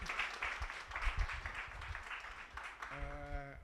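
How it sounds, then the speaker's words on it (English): An audience at a startup meetup in Nairobi claps in a soft, scattered patter that sounds distant and fairly faint, then fades out, with a brief tonal hum at the end. "Let's give them a clap."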